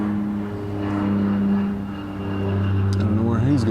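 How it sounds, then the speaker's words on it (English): A propeller plane drones overhead, its steady engine hum rising and falling slightly in the background. "Try to check for airplanes above us"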